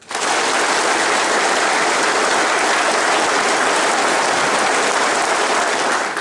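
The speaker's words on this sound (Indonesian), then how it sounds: "Tepuk tangan dulu lah." Soldiers of an infantry battalion applaud together in a sustained, dense burst of clapping, loud and close, rising quickly and holding steady for several seconds before fading at the end.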